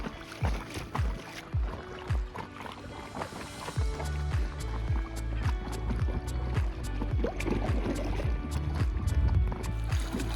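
A kayak moves across a lake in Banff National Park, its paddle strokes making a run of regular close splashes and water swishes over a steady background.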